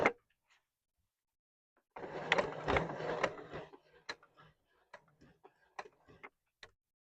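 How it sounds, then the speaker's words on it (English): Sewing machine stitching a ribbon bow onto a gingerbread appliqué pillow, a short quiet burst of running stitches followed by sparse ticking clicks as the needle steps around a small square. "You're going to attach the bow and you're just going to stitch around the square in the center."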